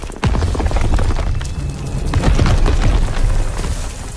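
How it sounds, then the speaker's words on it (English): A grenade blows up during the D-Day landing in Call of Duty WW2, with a loud, close boom that opens into a sustained roar of rumbling battle noise and debris. "Throwing a grenade!"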